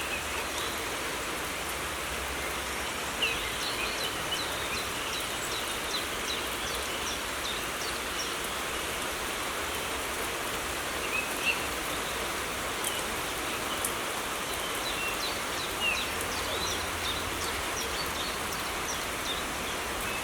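Heavy rain falls steadily outdoors at a home, a dense, even hiss of drops on surfaces throughout, with faint occasional bird calls and no talking.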